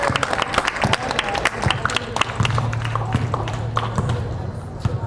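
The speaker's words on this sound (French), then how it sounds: "Elle mérite au moins une bonne main d'applaudissement, messieurs, avant la finale" An audience at Fonderie Darling applauds the performer Julia before the final, a steady close clatter of many hands clapping throughout with brief voices mixed in.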